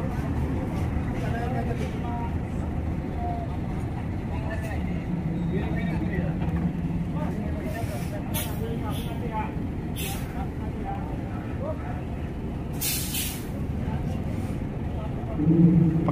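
A Rafael tourist bus, a low-slung coach, boards a ship at Merak port, its engine rumbling steadily with vehicle and harbour noise while people talk throughout, and brief hissing bursts of air brakes break in near the end.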